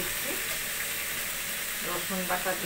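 Onion and garlic paste fries in a pan with a steady, close sizzle and crackle, faint stirring sounds rising near the end.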